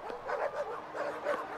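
Dogs in the River City Girls 2 video game, giving short whimpering barks and yips in quick succession, close and fairly clear.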